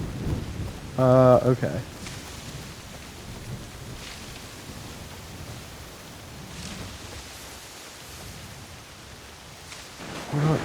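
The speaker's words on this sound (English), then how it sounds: "it is now pouring rain" Steady downpour of rain with faint rumbles of thunder in a stormy Japan setting in the game Assassin's Creed Shadows, a continuous wash of noise with a brief louder burst near the start and a voice speaking briefly.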